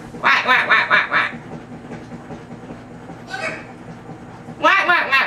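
Hyacinth macaw imitating a duck, giving bursts of rapid, raspy quacks in a fast run near the start, a short burst midway and another run at the end, loud and close, with quiet pauses between.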